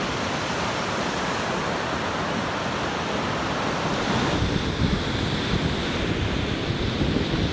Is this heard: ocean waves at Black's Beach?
yes